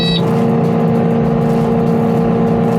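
A Kubota skid steer idles steadily with its hydraulics engaged to run a stump grinder attachment, a loud continuous engine drone and hum that holds even throughout, with no voices.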